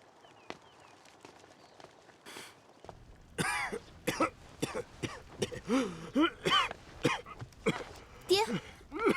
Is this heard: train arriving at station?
no